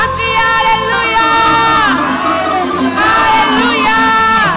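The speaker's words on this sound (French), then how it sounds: "On crie Alléluia!" Congregation at an annual Baptist church conference shouting Hallelujah, loud massed voices rising and falling in excited cheering, close and full.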